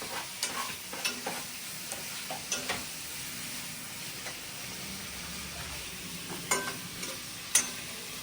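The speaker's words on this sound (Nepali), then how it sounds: "यहाँ चाहिँ फेरि मासु फ्राई हुँदैछ है। अब के बिफ फ्राई गर्ने हो ल।" Beef sizzles and fries in a pan at home, a steady low crackle with occasional sharper stirring scrapes and clinks scattered across it, moderately close and without talk.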